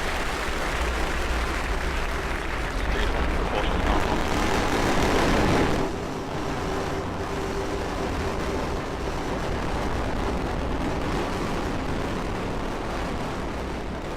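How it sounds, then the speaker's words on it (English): SpaceX Falcon 9 rocket lifting off carrying the JCSAT-18 Kacific1 satellite, a loud continuous broadband roar that swells and then settles into a sustained rumble. "Liftoff of Falcon 9, carrying the JCSAT-18 Kacific1 satellite to geostationary transfer orbit."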